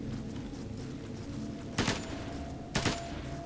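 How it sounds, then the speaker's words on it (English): Gunfire in Ghost Recon Advanced Warfighter 2, two separate shots about a second apart, sharp against a steady background hum. "I hear gunshot, is that you?"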